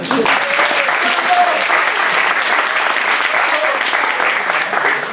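Sustained audience applause fills a design school lecture hall, dense and steady for about five seconds with no pause, while a few faint voices call out underneath.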